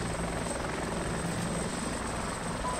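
Helicopter in the military game Arma 2, landing or lifting from a ship's flight deck, a steady loud rotor and engine drone that fills the whole moment without a break.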